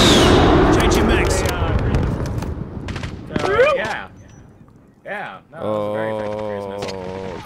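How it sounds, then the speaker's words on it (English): Cruise missile strikes in Call of Duty Modern Warfare hardcore play: a heavy roaring blast that fades over a few seconds, followed by sweeping whooshes and mixed tones, with someone speaking briefly over it. "Cruise missiles."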